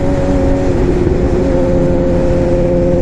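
A Suzuki GSX-R 750 motorcycle engine runs loud and close under added throttle, a steady droning rumble with slight rises in pitch and no speech.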